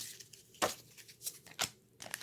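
A few sharp, papery riffles in quick bursts as playing cards are shuffled close by, with short pauses between each pass.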